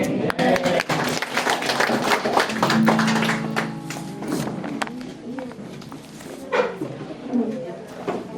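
Church congregation clapping together in a burst of applause, dense and fairly close, with a voice talking over it before the claps fade out.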